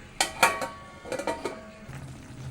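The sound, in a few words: lid being put on cooking pot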